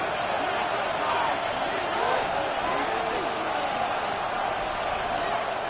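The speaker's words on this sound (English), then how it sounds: "The Buffalo crowd being heard before 3rd down." A football crowd at the Buffalo Bills' stadium roars steadily before a third down against the Ravens, a dense, continuous wash of many voices from the stands with no clear break.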